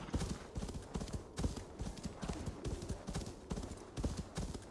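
Horse hooves clip-clop in a steady, rhythmic trot in the video game Assassin's Creed Valhalla, loud and close, with no speech over them.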